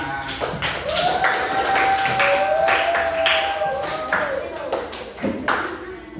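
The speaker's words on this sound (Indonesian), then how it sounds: "Oke, tepuk tangan untuk kelompok 5." A classroom audience claps for a student group, with brisk, scattered hand claps over several seconds and a faint ringing tone sustained underneath.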